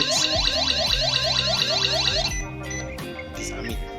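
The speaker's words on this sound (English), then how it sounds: "Now if this alarm, the alarm comes on" An S4 GSM home security system, triggered by a break-in, blasts a loud siren that sweeps up and down in quick, regular cycles, then switches to a harsher pulsing tone with a few clicks behind it.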